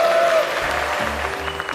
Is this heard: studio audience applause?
yes